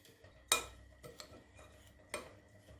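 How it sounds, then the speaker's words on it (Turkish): A spoon stirs crushed cocoa wafers and walnuts in a bowl, giving a few faint, sparse clinks and scrapes against the bowl in a quiet room. "kabımızın içerisine çekmiş olduğumuz cevizlerimizi ekleyip yine güzelce birbiriyle homojen oluncaya kadar güzelce karıştırıyoruz"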